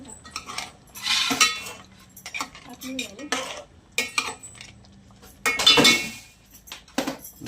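Metal spoon clinking and scraping against a pot while rice is stirred and salt added, several bright clattering bursts with quieter gaps, close and fairly loud, no talk.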